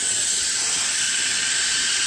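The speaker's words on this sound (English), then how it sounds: "Now, where I've got all that steam coming up, I'm using an oven mitt to do it." Steam venting from a pressure canner on a kitchen stove, a loud continuous high hiss holding steady throughout.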